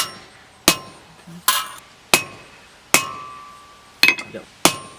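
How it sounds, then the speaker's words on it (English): Sharp ringing hammer strikes on metal over an anvil, mushrooming the end of a piece, six or seven distinct clangs spaced irregularly about a second apart, each decaying quickly. "Now we're gonna go outside my anvil, get this thing a little bit mushroomed out."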